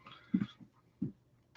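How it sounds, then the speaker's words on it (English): A pet dog, a big old female, gives two short, low huffing sounds close by with a softer one between them, in otherwise quiet surroundings. "Oh, cute doggy."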